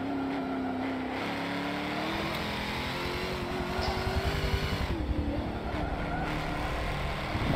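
A prototype race car in a sim racing game at Sebring, engine droning steadily with a rising whine as it closes in from behind, loud and sustained with no talk over it.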